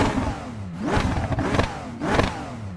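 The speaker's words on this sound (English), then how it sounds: "let's listen to how the engine sounds" A Ferrari 296 Challenge race car in the iRacing sim revs hard twice, each rise climbing in pitch and then dropping off with a short throttle-lift hiss, loud and close with no talk over it.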